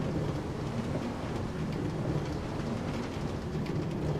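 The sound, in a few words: rain and thunder in Minecraft video game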